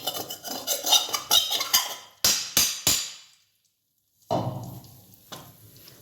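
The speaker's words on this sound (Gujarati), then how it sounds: "ઘી ગરમ થઈ ગયું એટલે આપણે આમાં લોટ નાખી દઈએ ને એ મંડીએ શેકવા" Wheat flour roasting in hot ghee for Gujarati sugar adadiya, with a spoon scraping and stirring against the pan in quick strokes, a brief silent gap, then more close stirring and faint frying.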